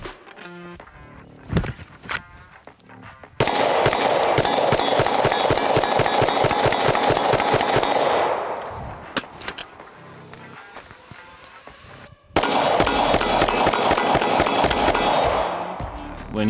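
Rapid strings of pistol shots from a backup gun during a self-defense draw demonstration: a few scattered shots, then two long dense bursts of fast, loud fire with a pause between them.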